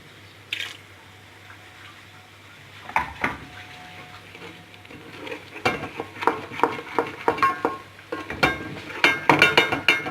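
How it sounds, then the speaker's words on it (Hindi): Masala sizzles gently over low heat in a pan for chicken and potato curry while a spoon scrapes and clinks against it, with the stirring growing busier and more rhythmic toward the end. "इसको हम अच्छे से भून लेंगे, हल्की आंच पे इसको पकाना है"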